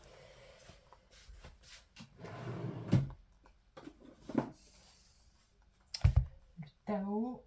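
A drawer holding card decks is pulled open, with wooden clicks and sliding knocks scattered among nearby handling noises while someone talks at times.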